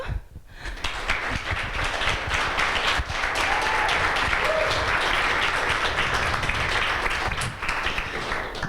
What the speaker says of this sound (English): So, just a round of applause for Kristo.